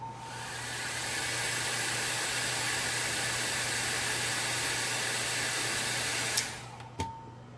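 A hair dryer blows steadily on alcohol ink, a loud continuous hiss that swells in and holds for several seconds, then cuts off with a couple of clicks near the end.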